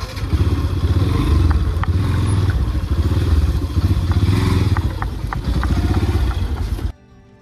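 A motorcycle engine rumbles loud and close at idle with light clattering for several seconds, then cuts off abruptly as the bike is parked, leaving near silence.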